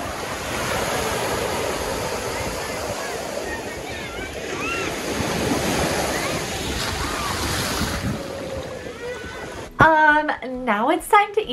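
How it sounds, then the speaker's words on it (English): Ocean waves break on a beach with a steady, full surf roar mixed with wind buffeting the microphone, and a person starts talking near the end. "just take a moment and enjoy the sounds of the beach because they're so beautiful"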